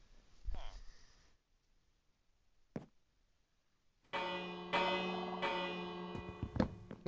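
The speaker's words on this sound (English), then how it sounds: "Hear our bell again." A bell rings inside a video game. After quiet stretches with breathy vocal noises and a short knock, it strikes with a bright clang and rings on in rich, sustained tones, with several more strikes that layer over the ringing.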